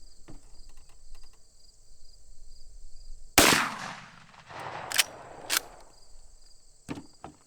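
.44 Magnum handgun firing 240-grain XTP rounds outdoors: one loud, sharp shot rings out over a steady backdrop of chirping crickets, followed by a couple of shorter cracks or clacks and a faint click near the end.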